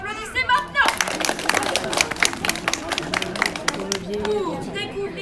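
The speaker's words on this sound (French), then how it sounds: "applaudissez maintenant!" Audience applause at a live stage show, a burst of brisk clapping and cheering from a crowd that includes children, rising after a voice and thinning toward the end.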